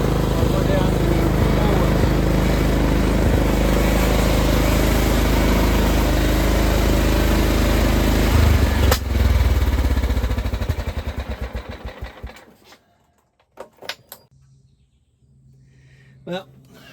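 A repaired lawn tractor engine drones loud and steady while mowing, then cuts out and dies away, leaving near-quiet with a few faint clicks.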